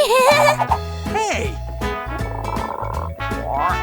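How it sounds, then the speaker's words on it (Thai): Frog croaking in a children's animal video, heard as a run of cartoonish voiced croaks over a bouncy music track, loud and close with a presenter's speech nearby. "นี่คือกบ"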